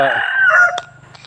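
A rooster crows once at a Buddhist temple in Chae Hom, Lampang, Thailand. The call is short, loud and close, with a rising then falling tone, and a faint low hum continues underneath.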